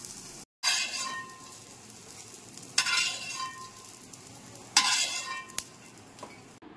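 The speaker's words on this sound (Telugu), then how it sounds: "మంటని మీడియం ఫ్లేమ్లో పెట్టుకొని ఇలా వేయించుకోవాలి" Meal maker soya chunks fry in oil over a medium flame in a kadai, giving a continuous soft sizzle with a few sharp bursts of stirring and metal clinks against the pan.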